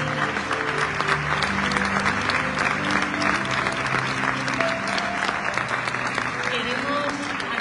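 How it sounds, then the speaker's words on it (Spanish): Concert audience at a copla and flamenco benefit show in Cáceres applauds steadily and loudly for the full stretch, a dense wash of clapping with a voice carrying faintly over it. "os pido un aplauso para ella"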